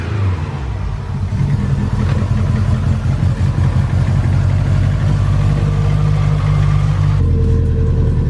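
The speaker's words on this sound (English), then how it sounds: "First car start of the day" A Subaru WRX engine with a recently disconnected battery runs steadily after the day's first start, a loud, close, continuous low rumble with a slight rise near the start and a shift in tone toward the end.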